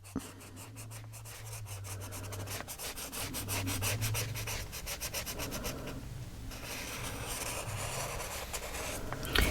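Ink is rubbed onto paper edges for a mini album, a soft continuous scraping and swishing with quick repeated strokes, faint and close, under a low background hum.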